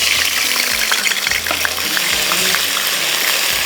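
Ginger and garlic sizzle loudly in hot oil in a pan for a nihari tarka, a dense continuous crackle with stirring clinks and scrapes, close and without talk.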